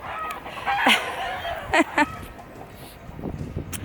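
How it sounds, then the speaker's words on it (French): A few scattered clucks from chickens, short and fairly close, over faint outdoor ambience. "Il y en a même des poules qui arrivent dans notre jardin."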